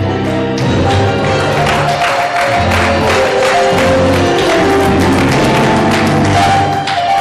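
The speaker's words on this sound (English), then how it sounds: "Clap your hands and give him a praise" A church congregation claps in praise during a sermon. Loud, dense rhythmic clapping sits under organ or keyboard chords and crowd noise, steady and full throughout.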